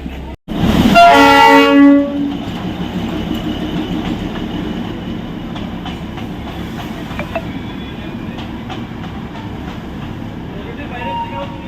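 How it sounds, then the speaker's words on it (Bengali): A train arrives and halts at a crowded platform during the busy season, with a loud horn blast at the start, then steady rumbling and station crowd noise with voices in the background. "ট্রেনটা এখনই নামলো, মানে দাঁড়ালো, প্যাসেঞ্জার নামছে"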